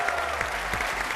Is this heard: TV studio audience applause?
yes